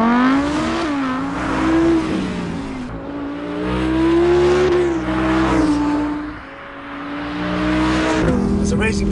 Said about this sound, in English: even the sound of the car, I can tune by just a simple flick with a finger